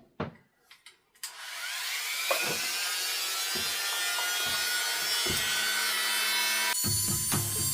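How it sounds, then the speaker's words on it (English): A power drill boring small holes into a plastic enclosure, starting with a few short taps before a steady, sustained whir that runs for several seconds, close by and with no talking. "let the drill catch and then push it in"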